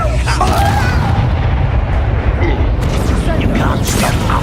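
A Confringo blasting spell goes off in Hogwarts Legacy amid a fight with Ranrock, giving a loud, dense booming roar with heavy low rumble that stays continuous throughout, as if surrounded by explosions.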